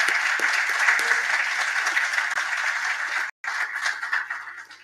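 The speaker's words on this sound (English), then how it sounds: "Let's give a big round of applause to our participants." A conference audience at a generative AI panel gives the participants a sustained round of applause, steady and fairly close, broken by a brief dropout near the end before the clapping resumes.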